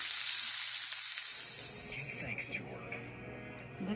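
Teriyaki lamb chops sizzle steadily in a hot pan, a loud continuous frying hiss that eases partway through as softer crackles and light clatter continue.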